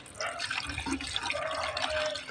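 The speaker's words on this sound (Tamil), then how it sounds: "அதனால் வந்து ஒரு வாளி பிடிச்சி வச்சுக்குவோம்." Water runs from a tap into a bucket in a steady, close, splashing stream that fills the whole stretch, with no voices over it.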